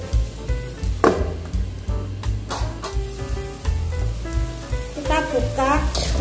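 Young corn stir-fry sizzles loudly in a hot pan while a utensil stirs it, giving a steady crackling fry with repeated scraping knocks and clinks close by.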